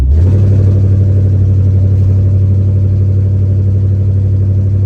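Rebuilt Chevrolet K5 Blazer engine droning loudly while the truck is driven, a deep, steady, close rumble that fills all five seconds with no talking.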